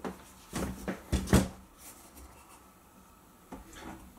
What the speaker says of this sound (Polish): W drugiej kolejności wstawiamy drzwi w zawias